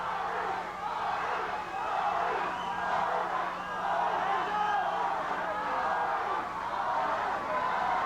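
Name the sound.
boxing crowd cheering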